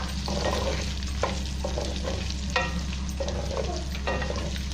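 Vegetables fry in a pan for chicken shashlik, producing a continuous close sizzle broken by repeated stirring scrapes over a low steady hum, with nobody speaking.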